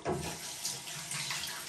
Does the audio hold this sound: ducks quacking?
no